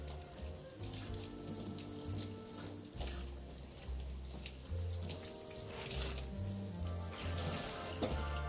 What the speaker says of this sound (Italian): Lo bagniamo con l'acqua.